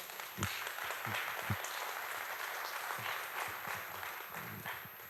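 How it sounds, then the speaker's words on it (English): An audience at a Cloud Foundry community conference applauds to welcome a speaker onto the stage, a steady wash of clapping with no talking over it. "Please join me with a round of applause just to welcome Purnima"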